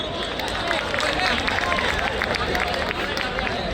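A large audience claps steadily in a dense, sustained burst of applause, loud and continuous throughout.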